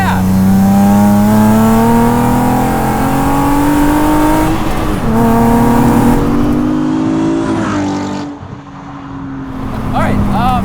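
A V6-swapped Exocet kit car engine drones loudly and steadily up close, its pitch climbing gradually under acceleration, with people talking over it.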